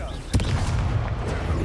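A Confringo fire spell blasts in Hogwarts Legacy, a single sharp boom followed by a sustained rumbling roar under game noise.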